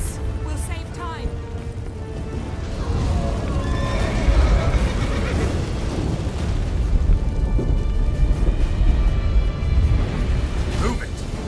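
Horse whinnies and hoof sounds in The Witcher 3, set over a loud rumbling, booming game soundscape that persists throughout, with a voice briefly heard among the effects.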